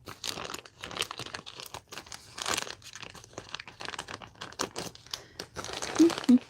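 Plastic packaging of Premier Yarns being cut and torn open: repeated crinkling and crunching bursts, close and fairly loud, irregular over several seconds.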